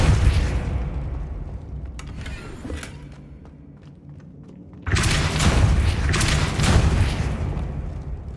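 A Depulso spell blast in the Hogwarts Legacy video game: after quieter creaks and faint clicks, a sudden loud whooshing burst erupts and rumbles on.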